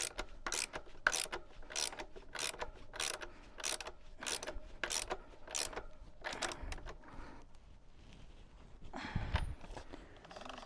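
A ratchet tightens the axle on a Surron Ultra Bee electric dirt bike wheel, giving about ten quick bursts of crisp, close clicking in an even rhythm before the clicks fade into quieter handling.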